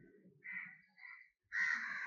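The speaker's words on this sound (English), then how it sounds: "Excuse for the background disturbances that may come from the birds crowing." Crows caw outdoors in the background, three harsh, rasping calls in a loose rhythm, the last the loudest and longest, with quiet low noise between.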